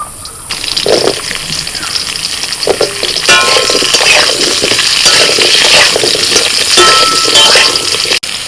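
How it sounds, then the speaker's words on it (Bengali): Sliced potatoes frying lightly in a pan, giving a steady broadband hiss with watery, splashy texture and occasional stirring scrapes throughout, fairly loud and without talk. "একইভাবে আলুটাও ভেজে নিচ্ছি"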